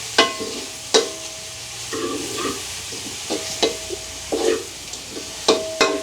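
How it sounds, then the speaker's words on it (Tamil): Leeks frying in a pan in a village kitchen, a steady sizzle with repeated scraping strokes of a stirring spoon against the pan, close and fairly loud. "லீக்ஸ் எங்களுக்கு வதங்கினது காணும்"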